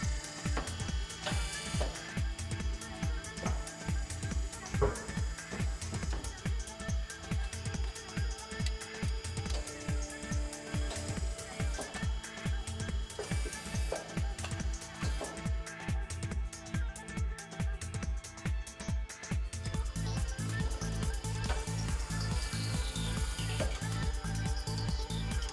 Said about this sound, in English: The clamping jaws are moved into the center hole of the rim.